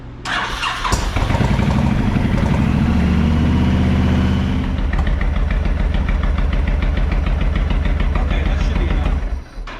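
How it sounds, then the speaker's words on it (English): A 2008 Honda VTX 1300 motorcycle with the choke on cranks briefly, fires up and settles into a loud, steady, close-up idle with a rapid rhythmic thump until it shuts off at the end. "now we're going to start the bike. So, choke on, okay, and start."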